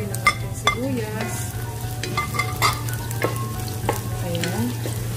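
Onions sauté in a pan for curried bitter gourd (ampalaya), a loud, close sizzle with repeated scraping and stirring strokes and a low steady hum underneath.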